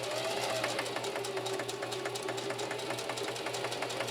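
A Singer Heavy-Duty 4423 sewing machine runs steadily while stitching a ribbon pattern, its needle clattering in a fast, even rhythm with a constant motor hum, close and continuous throughout.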